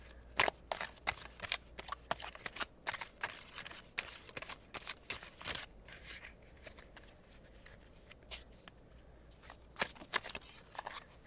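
Tarot cards being shuffled by hand, a sharp flurry of quick riffling bursts and soft flicks repeating irregularly, close and alone with no talking.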